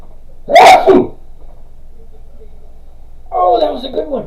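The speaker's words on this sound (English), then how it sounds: "Oh, that was a good one. Oh, I love a good sneeze." A single loud, close sneeze bursts out, followed a few seconds later by a short spoken reaction from a person.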